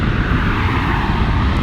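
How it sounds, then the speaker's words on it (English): A loud, steady airplane roar from an aircraft passing over to land, a continuous broadband engine drone filling the whole short stretch with no talk. "As planes land."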